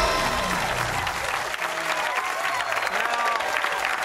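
Studio audience applause fills the room, a steady wash of many hands clapping close and loud throughout, with a few voices calling out over it.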